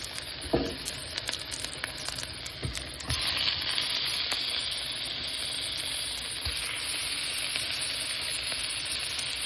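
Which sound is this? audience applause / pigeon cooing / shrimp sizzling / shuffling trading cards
shrimp sizzling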